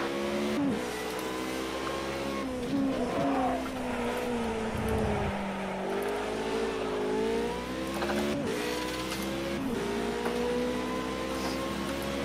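A race car brakes hard into Tamburello with its left front tyre locking: a loud, close engine roar drops in pitch through downshifts, then climbs again as the car pulls away, steady and unbroken throughout.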